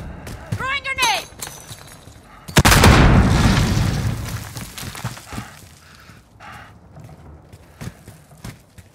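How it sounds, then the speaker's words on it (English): A grenade blows up in the shooter game Call of Duty: Modern Warfare on a cave map. The blast is a single loud close boom with a long decaying rumble, preceded by brief clicks and footsteps and followed by quieter scattered clatter. "Throwing grenade."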